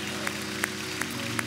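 A church congregation claps in unison in steady, evenly spaced beats over a continuous background of voices and music.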